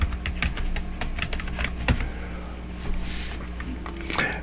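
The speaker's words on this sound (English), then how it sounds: "now I'm going to type in maybe hummingbirds" Typing on a computer keyboard during quilt design software search, a quick run of close, crisp key clicks in an irregular rhythm with a steady low hum underneath.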